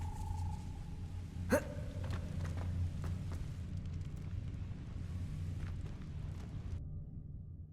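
A Confringo fire spell blasts a gate in Hogwarts Legacy, a single sharp fiery burst that rises out of a steady low game rumble and fades into the ambient hum.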